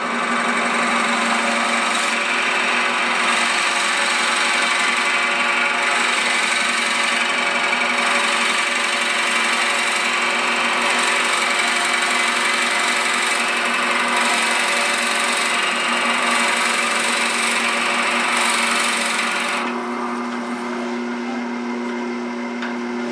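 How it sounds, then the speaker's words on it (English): A steady, loud power-tool whine with grinding texture runs continuously as a drill bit bores into wood held on a lathe, then drops slightly in tone near the end. "Anytime you drill a hole, you want to keep the drill bit from rotating."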